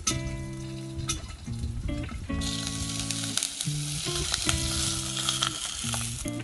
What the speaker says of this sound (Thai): เราก็ใส่น้ำมันไปเพียงแค่เล็กน้อยนะครับ ก็จะสามารถทอดแล้วเนี่ยเนี่ยได้เสียงใช่ไหมครับ